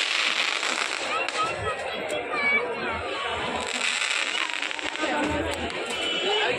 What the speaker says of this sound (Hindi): इसे देखो पटाखे फूट रहे हैं